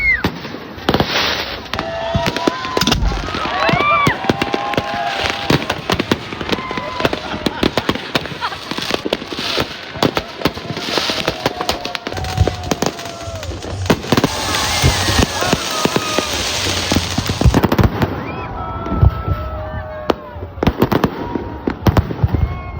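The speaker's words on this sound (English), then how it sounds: "There's still some fireworks going on" New Year's fireworks over a beach in Phuket, with a dense, continuous barrage of crackling bangs and pops, some near and sharp and some farther off, along with crowd noise and voices underneath.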